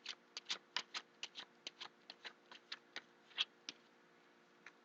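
A deck of tarot cards is riffled and shuffled close by, giving a quick run of crisp, papery flicks in an irregular rhythm, quiet and with no talk.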